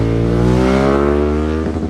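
A Ducati 916 superbike engine revs loud and close, a sustained, rich mechanical roar holding steady for nearly two seconds with a slight waver near the end.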